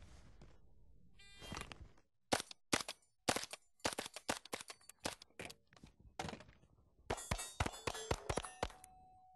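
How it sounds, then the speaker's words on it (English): Pistol shots ring out on steel targets at an outdoor range: a quick string of sharp, loud cracks with metallic clangs, some in rapid pairs, then a dense final burst. No talking. "shoot 2 on each of these front 2 steel, and then we'll put 1 round on the stop plate"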